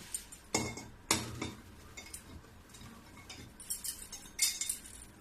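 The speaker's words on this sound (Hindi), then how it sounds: "इसको उबालने के लिए मैं एक कुकर ले लेती हूँ और ये आम को इसी में डाल दूंगी" Raw mangoes are dropped into a pressure cooker, giving two sharp clunks early on followed by lighter metallic clinks and rattles, close and quiet, no talk.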